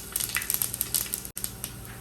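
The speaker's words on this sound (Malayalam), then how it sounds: "എണ്ണ ചൂടായി കഴിയുമ്പോൾ ആദ്യം നമുക്ക് കുറച്ച് കടുക് ഇട്ട് കൊടുക്കാം കടുക് പൊട്ടിക്കഴിയുമ്പോൾ" Mustard seeds splutter in hot oil, sharp irregular crackles and pops crowding together close by, with a brief silent break near the end.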